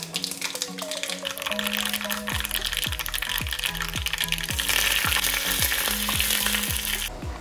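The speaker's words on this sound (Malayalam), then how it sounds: "എണ്ണ ചൂടായി വരുമ്പോൾ ഇതിലേക്ക് കടുക് ഇട്ട് കൊടുക്കാം" Mustard seeds, fenugreek and dried red chilies fry in hot coconut oil, a steady close sizzle with seeds popping in sharp repeated crackles that build and grow denser toward the end, with no voices.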